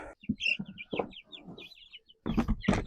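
Several chicks, including Buff Orpingtons, cluck and chirp close by in short, uneven bursts with brief pauses between calls.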